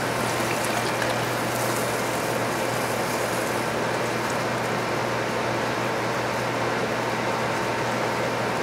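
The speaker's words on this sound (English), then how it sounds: "We'll add the cold water." Cold water pours steadily into a soup pot for crab bisque, a continuous broadband splashing rush that holds even and fairly loud throughout with no voices.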